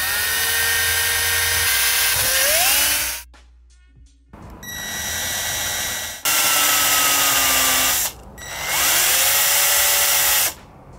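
A drill bores into a BMX brake caliper arm held in a brass-jawed clamp, running in three long loud whining bursts with brief pauses between, pitch sagging as the bit bites.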